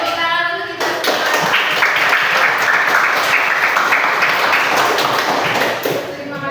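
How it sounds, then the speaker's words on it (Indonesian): A classroom of people bursts into applause after a brief quiet start, clapping loudly and steadily for several seconds with a few voices mixed in before it begins to fade at the end. "Tepuk tangan untuk kita semua"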